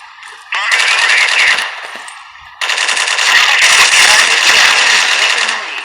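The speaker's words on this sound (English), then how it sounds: "that's the recoil of the M4A1 at close range." Close, loud automatic fire from an M4A1 rifle in the shooter game Strike Team Online, two sustained bursts of rapid rattling shots separated by a short pause.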